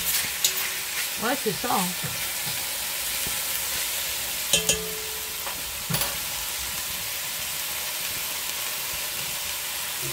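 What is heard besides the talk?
oil sizzling while frying beef for bourguignon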